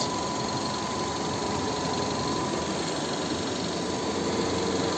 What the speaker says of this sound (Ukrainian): Звичайний атмосферний двигун, 16 клапани, два розпредвала, японський, класний двигун.